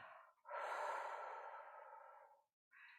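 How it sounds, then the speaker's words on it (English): One slow, long exhale through the mouth during meditation breathing, soft and close, followed by a brief pause and the start of the next breath. "release the breath out through my mouth"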